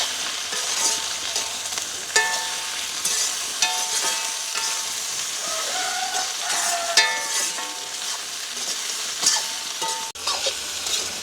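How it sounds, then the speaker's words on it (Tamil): Food frying and being turned in a pan in a village kitchen: a continuous close sizzle with scattered scraping and clinking of a stirring utensil, no talk. "இப்படியே நல்ல வடிவாக நாங்கள் பிரட்டி விடுவோம்."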